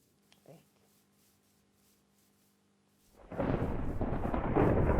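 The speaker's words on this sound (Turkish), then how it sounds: "Abi şu şimşek" Thunder crashes in during a storm in Minecraft Survival Games after a near-silent stretch, a sudden loud rumbling roar that sustains to the end.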